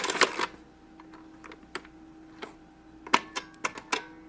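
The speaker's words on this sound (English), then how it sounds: "And now I'm gonna lock up the cash register." Small plastic clicks and ticks from a toy supermarket cash register being locked, a scattered series of sharp, close taps with a short cluster of quick clicks near the end.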